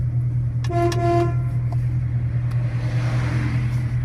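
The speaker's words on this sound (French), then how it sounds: "Et regardez, klaxon, klaxon qui est là." A Ford Mustang's horn honks in several quick, loud blasts close by at a car show, over a steady low engine-like rumble.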